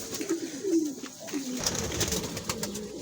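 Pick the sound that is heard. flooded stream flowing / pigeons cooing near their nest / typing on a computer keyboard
pigeons cooing near their nest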